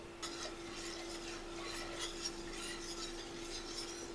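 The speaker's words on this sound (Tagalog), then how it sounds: "Ayan, kumukulo na." A quiet, steady bubbling and soft crackle of thick sauce for fresh lumpia simmering in a pot, with a faint low hum underneath.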